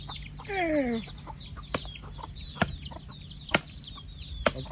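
Wild jungle fowl cluck near a rural Thai home with ducks and chickens: a short rising call sequence early on, followed by several sharp, isolated knocks over steady outdoor background noise.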